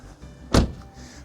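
The door of an accident-damaged 2010 BMW X1 xDrive 23d slams shut once with a single loud, close thump against faint background noise.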